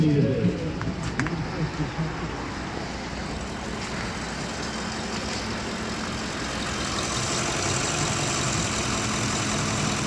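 A 2009-2014 Ford F-150 after a bank 1 cam sensor replacement, heard outdoors in the cold as the engine idles in a steady, even rumble that runs the whole length.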